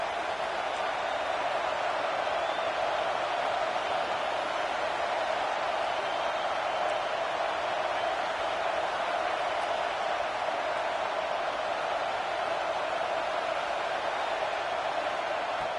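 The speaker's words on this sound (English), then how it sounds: "listen to this crowd noise" A roaring crowd fills a vibrating stadium during a college football game against FSU, a steady, dense wall of noise that holds at full level with no breaks and no clear voices.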